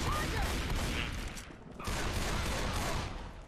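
Gunfire in Left 4 Dead 2 comes as a dense, loud burst of shotgun-like shots, a brief pause, then more firing, set against ongoing game noise.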